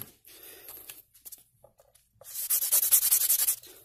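A bone banjo nut is rubbed against a 220 grit sanding pad, first in soft intermittent scrapes, then in a louder run of quick rhythmic back-and-forth strokes, close and alone.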